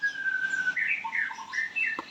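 A young magpie robin sings close by in a clear, varied run of whistled notes and chirps, bright and continuous against a quiet morning background.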